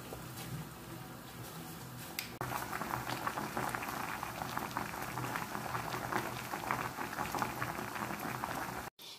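Rice boiling in a pot of water, a steady dense bubbling and popping that continues loud and close for most of the stretch, with no voices over it.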